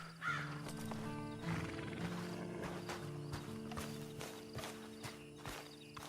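Horse in the Western game Red Dead Online, a whinny near the start followed by scattered hoof clops and stamping over a steady ambient hum, no talk.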